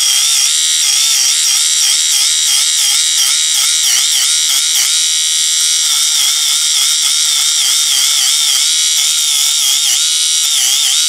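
A portable battery-powered electric exfoliating dead skin remover grinding, a loud, continuous high-pitched motorized whir with a wavering, buzzing tone close to the microphone and no talk over it.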